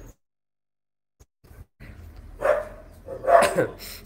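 Dogs bark at someone arriving at a house, a few sharp barks around the middle and end of a short stretch over quiet household background, with voice-like sounds mixed in.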